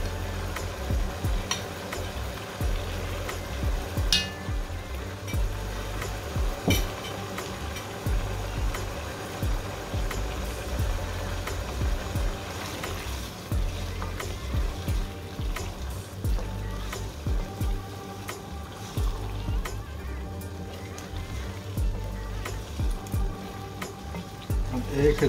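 Whole red chilies with salt and black pepper sizzle in a pan, a steady soft frying crackle running throughout with occasional stirring scrapes, close and moderate in level.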